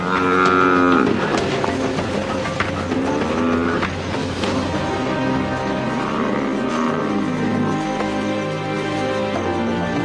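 A buffalo under attack by a pride of lionesses bellows and moos repeatedly, loud and close, with drawn-out distressed groans over a constant rumble of struggle in the wild.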